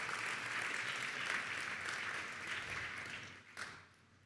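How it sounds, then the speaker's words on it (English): Applause for a speaker being welcomed at a boot camp event, steady crowd clapping that holds for a few seconds, then thins out and fades near the end. "One big round of applause for Drew."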